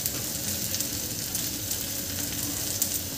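Dudhi bhopla (bottle gourd) thalipeeth frying in oil on a pan, a steady close sizzle with fine crackle running unbroken throughout, no voices.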